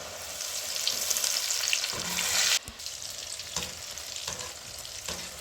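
Peanut bhajiya fry in hot oil on a low gas flame with a loud, continuous sizzle. It drops off sharply partway through, then carries on more quietly with occasional stirring clicks.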